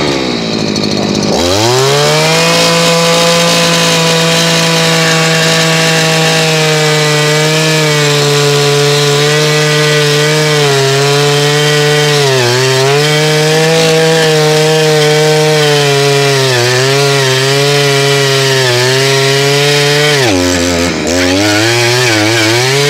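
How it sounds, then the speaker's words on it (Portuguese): A bicycle-style engine drives a soil auger with a giant 200 mm bit, drilling into ground for an artesian well, and its small motor holds a loud, buzzing drone that dips and strains under load for twenty seconds. "Vamos tentar furar um poço artesiano com esse perfurador"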